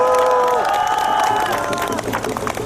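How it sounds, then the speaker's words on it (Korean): A large outdoor crowd at a national farmers' rally cheers and claps with shouts and whoops, loud and close, while a held musical tone runs under the first part. "사과 농민들이 힘낼 수 있게끔 큰 박수 한번 부탁드리겠습니다."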